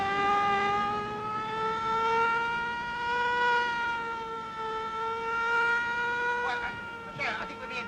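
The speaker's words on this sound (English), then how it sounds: "Get your foot off that siren." A steady wailing siren tone holds with slowly drifting pitch, fairly loud and continuous, with a couple of brief noisy bursts near the end.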